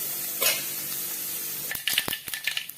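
Hot oil gives a brief sizzling hiss as turmeric, cumin and salt fry, followed by several sharp metallic clinks of a spoon stirring in a pan.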